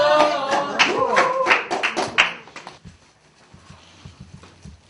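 A small group of people claps indoors, giving a quick patter of handclaps mixed with voices and laughter that stops after a couple of seconds and leaves a quiet room.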